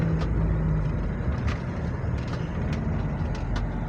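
A flood-damaged Mitsubishi Montero's engine running steadily, a continuous low rumble with a few faint clicks and ticks over the top, close and constant throughout.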